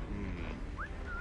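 Character whistling in Assassin's Creed 3, video game: two short rising whistle notes, the second held longer, heard over a constant busy background.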